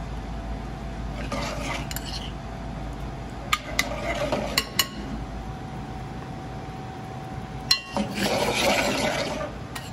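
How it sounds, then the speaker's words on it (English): Scallops turned over once or twice in a hot pan, giving soft scrapes and a few sharp utensil clicks against the metal over a steady low hiss, with brief bursts of louder sizzle and clatter. "You can flip the scallops over once or twice in the pan."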